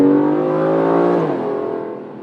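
Aston Martin V12 Vantage engine driven hard, a loud close rising rev with a rich harmonic drone that peaks and then falls away as the throttle eases.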